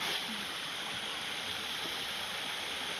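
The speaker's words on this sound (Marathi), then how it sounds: "इथे गंगा नदी वाहते" River water from the Ganges streaming steadily in a rural village setting, a continuous broadband rush and gurgle that stays level throughout, close and fairly loud with no talk over it.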